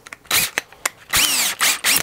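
A handheld power drill fitted with a drill bit for window trim work on a tiny house gives several short bursts: quick revving whirs with rising pitch, separated by brief clicks and pauses, close and fairly loud.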